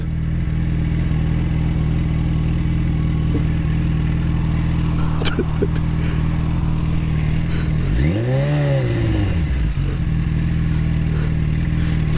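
A 2008 Yamaha FZ1 motorcycle engine hums steadily while riding, with a rising and falling revving sweep partway through as it slows and turns around, loud and close with road and wind noise.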